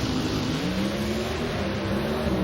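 Pro Stock drag cars launch hard off the starting line at an NHRA national event, a loud, continuous engine roar with dense low harmonics filling the whole moment, no voices over it.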